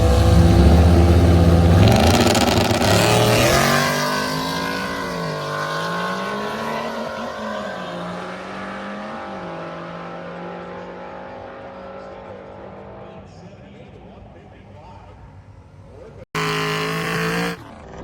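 Street-legal six-second drag race car launching down the strip at Drag Week 2025, a loud engine roar that climbs and fades into the distance, followed by a short burst from another nearby car at the end.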